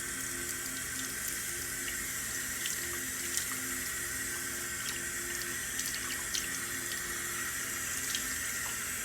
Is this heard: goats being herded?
no